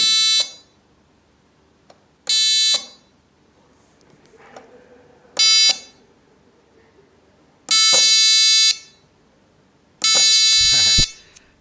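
An Arduino piezo buzzer triggered by push buttons in a XOD-programmed circuit sounds five loud, harmonic-rich beeps of about half a second each, separated by quiet gaps, with faint handling noise in between.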